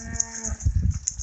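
A cow on a farm gives a deep, close moo that swells and wavers for about a second, with no talking over it.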